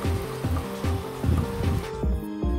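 Heavy rain pours steadily in Hong Kong on a rainy Saturday, a dense constant wash of noise with a repeating low rhythmic thumping running beneath it.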